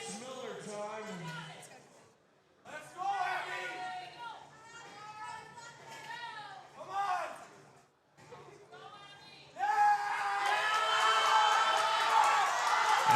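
Spectators at a national powerlifting competition cheer and whoop for a lifter. The crowd noise swells into a loud, sustained roar near the end, with a commentator talking over the cheering throughout.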